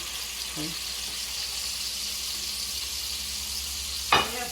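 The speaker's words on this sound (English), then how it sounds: "And we're going to get a nice sear on this on all sides." Pork tenderloin sears in a hot pan, giving an even, close hiss throughout, with a brief louder burst of sizzle near the end as the meat shifts.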